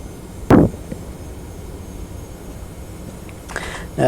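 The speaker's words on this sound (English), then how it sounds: "We're flying in a Boeing 717 aircraft" Engines of a Boeing 717 in a flight simulator drone as a low, steady rumble through the whole clip, briefly broken by a sharp knock early on and a short mid-range burst near the end.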